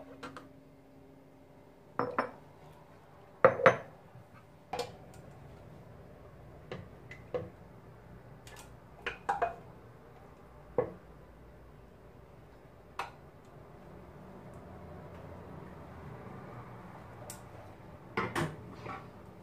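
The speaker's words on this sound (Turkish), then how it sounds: "Kapatırken kapaklarına dikkat edin." Metal lids being screwed onto glass jars of homemade tomato juice, a series of sharp clinks and ticks at irregular intervals, some in quick pairs, over a quiet kitchen background.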